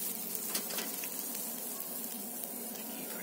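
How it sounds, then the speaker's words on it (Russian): Pork neck shashlik sizzling over a grill by a lake, a soft continuous hiss and crackle, faint and steady with no speech. "Жарим шашлычки."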